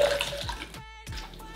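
Liquid free-poured from a party shaker bottle splashes loudly and close, a steady pour that cuts off briefly and then resumes, with no voices.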